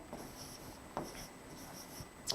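Chalk or marker writing on a board in a classroom lesson, soft scratchy strokes with a few sharper taps, faint against steady room hiss.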